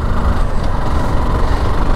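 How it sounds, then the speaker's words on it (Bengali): A motorcycle ridden in fifth gear at speed, its engine a steady, loud low drone with continuous wind and road rumble, no voices. "আমাকে অবশ্যই 5 নাম্বার গিয়ারে বাইকটা রাইড করব"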